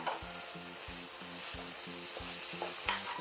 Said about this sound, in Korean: 새우를 넣고 볶아줍니다